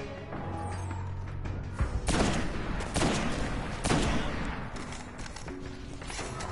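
Legendary rifle fire in the Destiny video game, a few loud bursts of shots rising out of a quieter game soundscape, with the heaviest volleys clustered in the middle.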